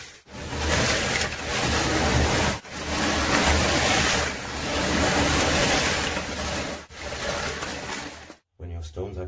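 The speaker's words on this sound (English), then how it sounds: "Now we clean everything with fresh water." Fresh water rushing and splashing while gemstones and a rock tumbler are rinsed after the 800 grit stage, a loud continuous hiss broken by short pauses, ending abruptly.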